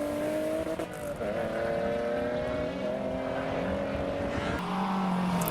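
BMW Cup race car at a British Rally Championship-type motorsport event, its engine note droning steadily with shifting pitch as it passes close by, loud and continuous with a brief gear change midway.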